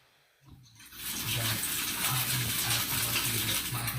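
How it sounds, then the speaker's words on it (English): Steady rushing spray of running water, likely a shower, starting after a brief quiet moment and then continuing loud and constant with a faint intermittent low hum beneath it. "Brenda, are you in the shower?"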